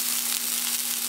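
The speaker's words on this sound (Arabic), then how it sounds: "فاود ما نزيد الزيت كنزيد واحد شويه ديال الماء" Water splashed into a hot, dry frying pan sizzles as one loud, steady hiss that fills the moment, with a low steady hum under it and no talk.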